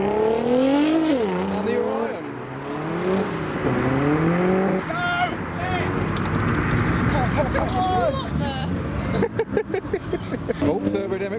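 A turbocharged Mazda MX-5 drives past at a car show amid other engines, a rising and falling engine note with revving and a brief squeal, while people talk loudly nearby.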